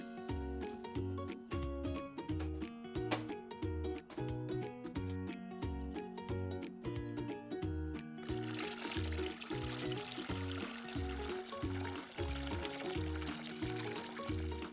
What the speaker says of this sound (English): Now we pour our water and follow it all the way to the bottom.